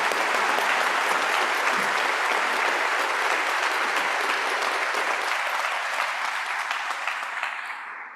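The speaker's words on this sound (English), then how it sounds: "So let's give a round of applause." Sustained applause from a large graduation ceremony audience, a dense steady wash of clapping that holds loud and even before thinning slightly and fading toward the end.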